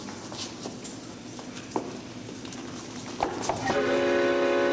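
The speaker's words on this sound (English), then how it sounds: "There's your train." A train passes as a sound effect in a high school stage production, a rumbling rail noise with clattering knocks that builds and ends in a sustained horn blast.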